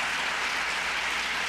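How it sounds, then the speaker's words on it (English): Audience applause at a community end-of-summer celebration, a dense steady wash of clapping filling the whole short moment, with no voices over it. "would you give Councilmember Tolbert a big round of applause as well?"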